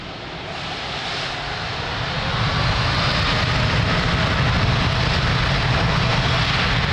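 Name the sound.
Etihad airliner taking off from Lisbon Airport runway 02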